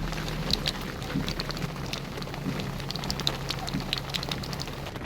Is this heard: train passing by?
no